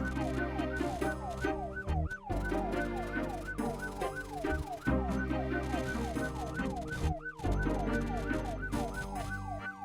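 A wailing ambulance siren in a zombie survival video game rises and falls in repeated sweeping cycles, loud and close, over a dense din of game noise with brief dropouts.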